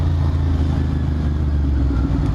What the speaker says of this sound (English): I think we will rev bomb, but we'll do it when we're moving